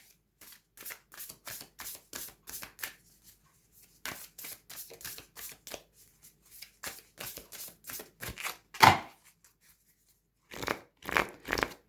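Tarot cards are riffle-shuffled in quick, close bursts of crisp papery flicks, with a pause midway, a sharp snap near the end, then a few final shuffles; no talking.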